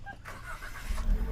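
A Perodua Bezza engine starting by push-start button, a brief crank then a low idle settling in, close by, without talk over it.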